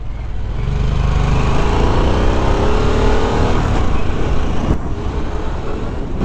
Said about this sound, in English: it's like a really smooth shifting here on the Sportster S